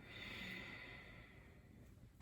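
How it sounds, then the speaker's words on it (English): A soft, long breath exhaled during a chair yoga breathing exercise, faint and close, drawn out as a steady airy hiss lasting about two seconds. "And then a long exhale out."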